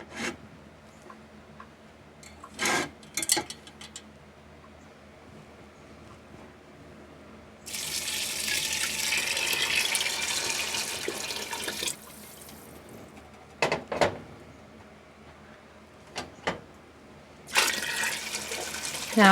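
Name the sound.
water pouring into a pot of dry beans for chili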